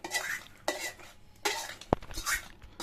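Chivda snack with spices is tossed and stirred in a metal pan for Diwali, making four bursts of dry rustling and scraping with a sharp clink of a utensil against the pan. The sounds are close and fairly quiet.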